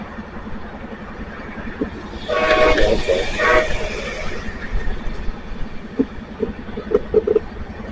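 The Amtrak Empire Builder rolls by at Whitefish, Montana on a cloudy, snowy day, a rumbling pass with a brief horn blast in the middle and clanking wheels, heard at a moderate distance under a voice.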